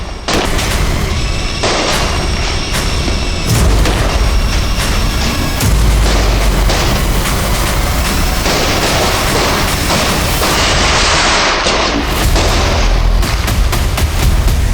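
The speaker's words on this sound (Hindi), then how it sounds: "दिवाली के शाम में पटाखों के बीच" Loud, rapid bursts of Diwali evening firecrackers crackle and pop continuously, overlapping booms filling the whole stretch with little pause.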